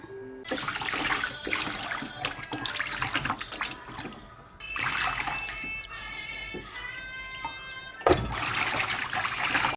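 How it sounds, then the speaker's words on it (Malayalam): Raw beef is scrubbed with vinegar under running water in a kitchen sink: a steady, close splashing stream that drops off briefly and returns, with no talking. "കുറച്ച് വിനാഗിരി ഒഴിച്ച് നമ്മൾ വെള്ളം ഒഴിച്ചിട്ടിട്ട് നല്ലവണ്ണം ഉരച്ച് കഴുകുക"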